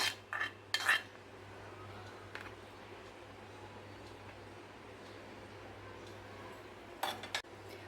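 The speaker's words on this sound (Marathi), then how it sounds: "एक कोरडा डबा घेतला आहे त्यामध्ये मी आंब्याच्या फोडी घालते" Mango pieces dropped into a dry container, heard as a few light clinks and clatters at the start and again near the end, separated by a quiet stretch with low hum.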